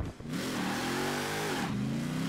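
A car in Forza Horizon 4 launching hard with traction control on, its engine revving and climbing through the gears with sustained loud acceleration, pitch rising, dropping briefly at a shift, then rising again.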